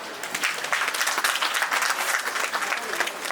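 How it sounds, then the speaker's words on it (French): Steady, dense applause from a crowd at an official ceremony in Libreville, many hands clapping together throughout, loud and sustained with no pauses. "sous vos applaudissements"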